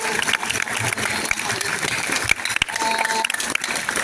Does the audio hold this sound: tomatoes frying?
no